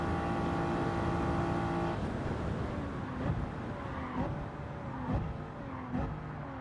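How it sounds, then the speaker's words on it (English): Volkswagen Beetle engine in a Gran Turismo 7 race at the Daytona road course, a steady droning engine note rising and falling through gear changes with repeated shifts, fairly loud and continuous, alone without talk. "We're hearing that Volkswagen Beetle engine."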